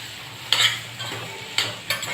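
A spoon stirs bitter gourd curry in a pan, giving a few short scraping, sizzling bursts over a low steady hiss of frying, with no talking.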